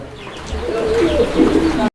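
A pair of pigeons at a farm coos steadily at close range, soft low throaty calls repeating throughout without speech.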